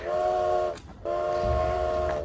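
A train at a school in Lijiang, China, sounds a loud, sustained whistle nearby, cutting off briefly before a second long blast.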